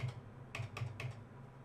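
Several crisp computer keyboard key presses, including the Enter key, land in a quick cluster of three or four clicks, close and fairly quiet against a faint room hum.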